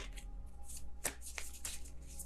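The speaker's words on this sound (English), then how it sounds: "Kind of sloppy shuffle there." Tarot cards being shuffled by hand: a quiet, close riffling crackle with a few sharper snaps of the cards slapping together, in a still room with no talking.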